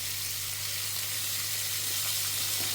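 Capsicum and other vegetables sauté in oil for kalyana sambar, giving a dense, unbroken hiss of sizzling close by with a faint low hum beneath and no voices.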